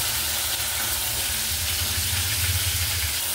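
Ginger paste and spices fry in a pan while a fish-head and bottle gourd curry is cooked, giving a steady close sizzle and hiss that holds evenly from start to finish.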